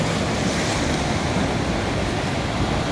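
Ocean surf rolls onto the beach at Digha, a loud, continuous wash of breaking waves with wind rushing across the microphone and no voices.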